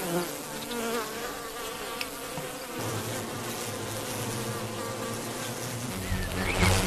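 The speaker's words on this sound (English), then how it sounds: "Hives are complex societies with each bee assigned a role." A dense, steady buzzing of many bees in a hive, close and continuous throughout, with no voices.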